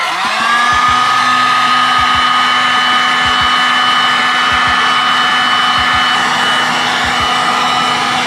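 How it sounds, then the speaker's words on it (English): A heat gun blowing hot air onto a plastic cycling helmet visor, a loud, steady close-up roar with a constant whine, broken by a few pairs of soft clicks. "With this kind of heat gun you have to be quite careful because this produces quite much heat and it can melt the plastic"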